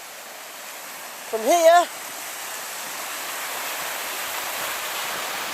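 Broad steady rush of a flooded river after heavy rain, continuous and even across the whole span, with someone briefly speaking near the start over the water noise.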